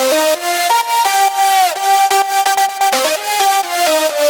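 A bright synth lead from a festival mainstage remix plays a stepping melody with sustained, gliding notes over a steady rhythmic backing, loud and upfront, no voices.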